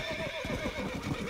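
A horse in Red Dead Redemption lets out a wavering whinny that rises and falls across the moment, fairly close and loud over a steady bed of game ambience.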